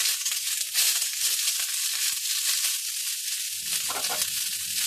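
Neem leaves crackle and sizzle steadily in hot mustard oil for the whole stretch, a loud, close, dense hiss with no voices, settling slightly near the end.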